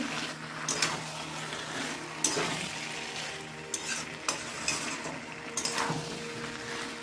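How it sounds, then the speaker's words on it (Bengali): Small potatoes being stir-fried with spices in a pan for aloo dum, with a continuous sizzle and several scrapes and clinks of the stirring utensil against the pan, heard close and with no talk. "বন্ধুরা দেখো কষিয়ে যাচ্ছি মশলার সঙ্গে।"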